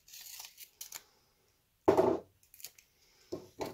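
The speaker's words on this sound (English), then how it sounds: "tape it completely so we have this nice clean edge" Blue painter's tape being torn and pulled from the roll in short ripping bursts, one loud strip in the middle, applied around the edge of a penny tabletop to hold back resin; close and alone, with no talking.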